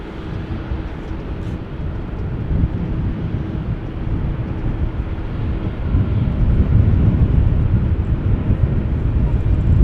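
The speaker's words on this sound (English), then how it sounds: "Singapore Airlines, flight 323 to Singapore, A350-900, also on the move" A Singapore Airlines A350-900 airliner on the move at Amsterdam Schiphol Airport, its jet engines producing a steady low roar that builds gradually, mixed with wind buffeting on the microphone.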